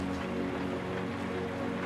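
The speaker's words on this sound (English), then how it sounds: "Listen to how the steady, unhurried rhythm of the rain outside matches your stabilizing" Steady rain falls outside in a continuous, even patter, a soft unbroken wash of drops with no talking over it.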